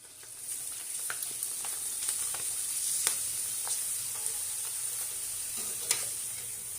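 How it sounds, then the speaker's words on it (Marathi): Five chakli spirals fry in hot oil, giving a continuous quiet hiss and sizzle with scattered little pops and crackles throughout. "5 चकल्या ह्या तेलामध्ये टाकते आणि तुम्ही पाहू शकता लगेचच छान अशा ह्या चकल्या फुलत असतात"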